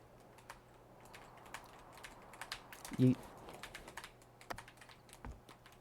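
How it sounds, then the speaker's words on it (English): Clacky computer keyboard typing during a speedrun of a climbing game, a scatter of quick key clicks at low level over a steady hum, with one louder thump near the middle. "I bet my keyboard is probably so clacky."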